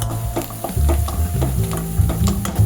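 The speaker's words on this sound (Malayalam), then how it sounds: "നല്ലപോലെ ഇളക്കട്ടെ." Spiced chicken is stirred and fried in a pan, with a spoon scraping in irregular strokes over a continuous close sizzle.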